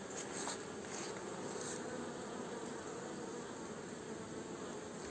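Honeybees flying around the entrance of Mini Plus hives while bringing in pollen, a steady dense buzzing hum from many insects close by, continuous with no voices.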